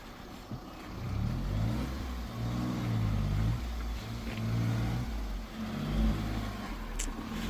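A bus engine revs and labors continuously at low pitch as the vehicle is eased through a tight spot on the dangerous mountain road of Sach Pass, rising and falling in steady waves with no clear talk.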